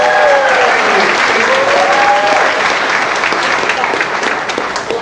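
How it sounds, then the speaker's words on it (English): An audience at the Hootenanny 2022 event applauds to welcome a speaker, loud sustained clapping from a large crowd that slowly eases off toward the end. "Please give a warm welcome to Tom Washington"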